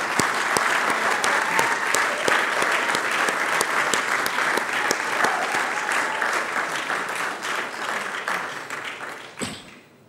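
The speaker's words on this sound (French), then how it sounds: "Et je vous invite à applaudir pour cette médaille." A hall audience applauds a judo champion's medal with steady, dense clapping that holds for about nine seconds, then tapers off with a final few claps.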